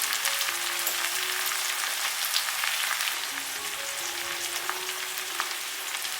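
Chicken pieces fry in a heated clay pot with onions, giving a dense, steady sizzle with small crackles and a faint tone running under it, close and fairly loud throughout.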